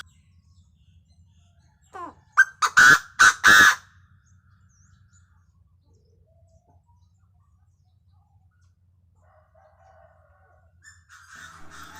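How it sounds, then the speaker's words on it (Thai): A rooster crows once nearby, a loud, multi-part call, followed by quiet with faint bird chatter near the end. "ไก่ตีก็มีพี่น้อง"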